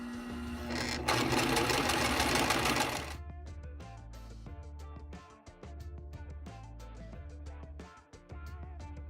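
A sewing machine zigzag stitching a canvas drop cloth tote bag, a brief loud rattle followed by rapid, rhythmic mechanical stitching at close range.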